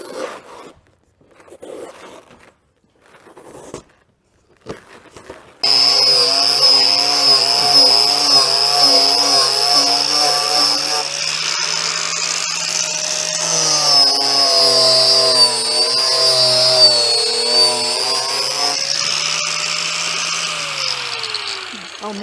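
A power tool fitted with a floppy sanding disc scrapes car headliner foam, a loud, steady, rasping whine that runs continuously for most of the stretch after a quieter start with faint knocks and voices.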